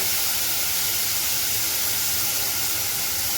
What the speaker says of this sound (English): So now it is heated, so now we will add our tomato slices.